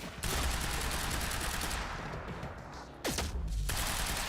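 Sustained gunfire from the Quantum Break video game, a dense continuous fusillade of rapid shots with a brief lull and a sharp burst near the end, loud and close with no talk.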